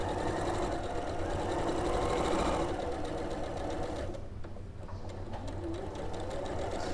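A sewing machine runs a quarter-inch seam on a star-pattern wall hanging, a close, continuous fast rattling hum that slows briefly partway through before resuming steadily.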